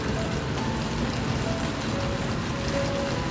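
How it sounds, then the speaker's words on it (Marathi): Heavy monsoon rain sets in over a Mumbai chawl, a dense, even hiss of downpour on surfaces, steady and close with no voices. "हा बघा इकडे ना जोरात पावसाची सुरुवात झाली बघा."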